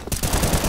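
An AK rifle fires in a video game, a rapid, loud, close burst of automatic shots that runs continuously through the short moment.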